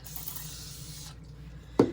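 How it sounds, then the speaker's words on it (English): A short burst of spray hisses over a freshly demolded resin casting for about a second, then stops, followed by a sharp knock or tap near the end. "I'm going to spray him a little bit here."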